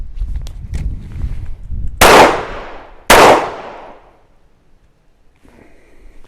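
Two sharp gunshots crack out about a second apart during target shooting practice, each followed by a decaying echo, with shuffling handling noise before them and quiet afterward.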